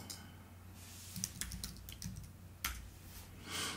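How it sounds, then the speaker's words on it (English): Short bursts of typing on a computer keyboard while entering a name into an Excel spreadsheet, faint clicky keystrokes in small clusters over a low room hum, close by and without speech. "Let's type in Charlie."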